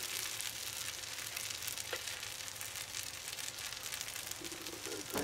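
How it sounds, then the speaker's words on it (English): Eggs sizzle on a 36-inch Royal Gourmet flat top grill outdoors, a steady, faint hiss of frying grease that runs the whole time with no talk. "now I'm going to go ahead and make some eggs"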